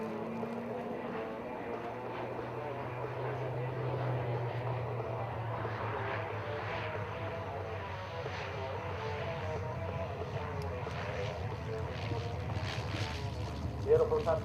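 Vintage aircraft side-slipping on approach at an air race in Victoria: a steady, fairly distant engine drone, with a slight rise in noise near the end.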